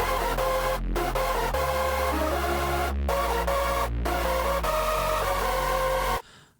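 Bright, dense electronic synth lead in a hard-style vein with mid/side stereo processing, playing sustained chords over a heavy low bassline, loud and continuous with brief gaps, then cutting off near the end.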